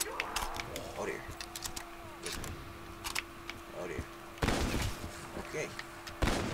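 Gunfire cracks out in Black Ops 3 Zombies in scattered single shots and short bursts, with a louder volley near the end, over a steady electronic hum.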